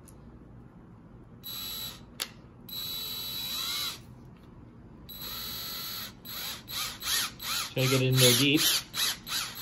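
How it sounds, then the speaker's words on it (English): A screwdriver turning a screw into a wooden part of a replica ancient Egyptian chalk-line tool, with close ratcheting, squeaking twists in uneven bursts, briefly broken by a spoken voice. "and then we're gonna screw that on there"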